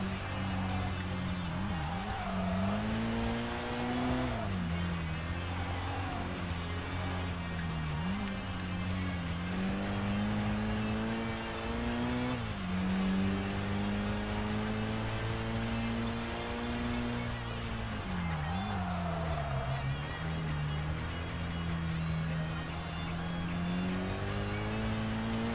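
Bizz-R car racing in the Kaido Racer 2 video game: a steady, loud engine drone that rises and drops through gear changes and revs for the whole stretch, with occasional tire squeal.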